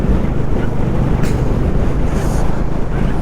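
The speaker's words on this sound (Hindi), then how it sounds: "यहाँ पे फिर से हवा चलने लगी और मौसम ठंडा हो गया है" Wind blowing across a cold mountain road in Ladakh near Zoji La, a steady loud broadband rush and buffeting on the microphone with no speech.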